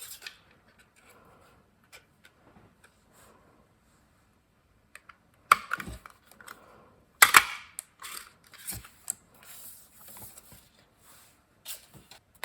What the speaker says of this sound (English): Double oval punch, we're going to punch that out.